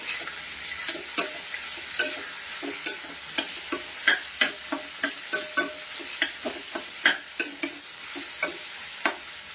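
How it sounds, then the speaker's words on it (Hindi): Onion, ginger and green chili sizzle softly in a pan while a spoon scrapes and clicks through them in steady, repeated stirring strokes, close and fairly quiet. "तो यहाँ सब चीज़ों को हमें अच्छे से भून लेना है।"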